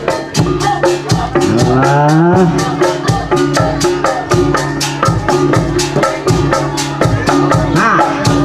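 Cattle moo at the Cihideung Festival, a long, loud, gliding bellow rising over steady, rhythmic festival drumming that pounds throughout.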